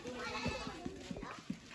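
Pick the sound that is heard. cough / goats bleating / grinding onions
goats bleating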